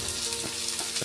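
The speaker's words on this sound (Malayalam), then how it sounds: "ഇനി നമുക്ക് കരിയാപ്പില ഇട്ടു, അതിൻ്റെ കൂട്ടത്തിൽ നമ്മൾ ചെറുതായിട്ട് അരിഞ്ഞു വെച്ച കൊച്ചുള്ളി ഇടുകയാണ്" Finely chopped small shallots and curry leaves drop into hot oil, giving a close, steady, bright sizzle and crackle that carries through the whole short stretch with no voices.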